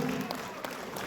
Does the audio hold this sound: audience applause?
yes